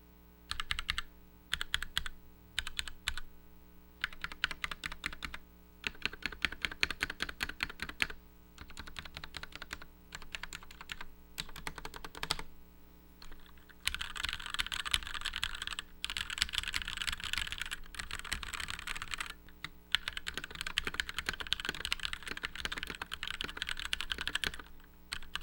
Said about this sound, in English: And so here we'll do a sound test.